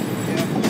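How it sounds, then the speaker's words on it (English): CrossCountry Voyager diesel train arriving at Doncaster station, a brief loud rumble of wheels and engine with two short hissing bursts, under speech. "So coming in now is a cross country Voyager."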